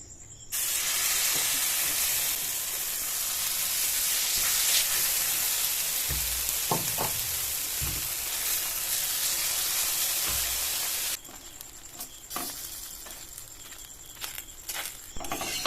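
Chicken atta paratha frying in a pan of white oil, a steady loud sizzling hiss that runs for about eleven seconds with a few soft clicks of handling, then drops away to quiet kitchen sounds.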